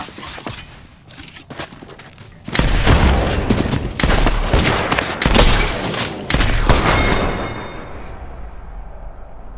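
A frag grenade explosion and bursts of gunfire in the video game Apex Legends: loud, sharp blasts and rapid shots cluster in the middle, then trail off into a quieter tail.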